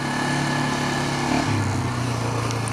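A motorcycle engine drones steadily at moderate distance while the rider pulls wheelies, with a buzzing, high-pitched tone and no talk.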